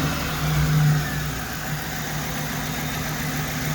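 A car started by remote start settles into a steady idle, a low, even engine hum with slight vibration, close by and heard alone without talk.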